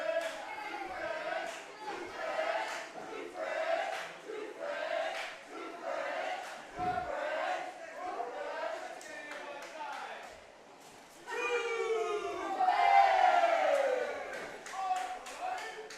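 Crowd at a televised dance competition cheers and shouts for the defending champions, a loud sustained roar under a commentator's talk, swelling with excited whoops late in the clip.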